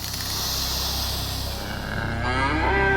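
Cattle lowing on a farm, with several long moos rising and falling over steady outdoor ambience, loud and fairly close, with no talking.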